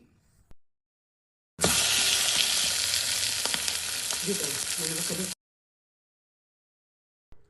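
Egg poach frying on a hot pan with coriander, pepper powder, onion and salt, a steady loud sizzle lasting about four seconds between silent stretches, with no talk.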